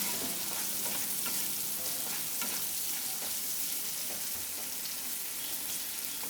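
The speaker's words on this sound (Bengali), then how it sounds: "সবজিগুলো ভাজা হয়ে গেছে।" Mixed vegetables with capsicum stir-fry in a pan for restaurant-style fried rice, giving a loud, steady hiss of sizzling oil with occasional scraping stirs throughout, no talking.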